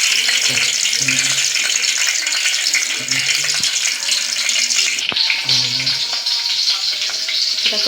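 Green chillies dropped into a hot pan sizzle with a steady bright hiss and crackle throughout, a few small clinks of a utensil against the pan, and someone speaking intermittently over the cooking noise.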